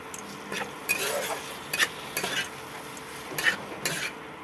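Fried, partly boiled potatoes being stirred into a cooked spice paste in a pan, with soft sizzling underneath a series of spoon scrapes and metallic clinks at an irregular pace, close and fairly quiet.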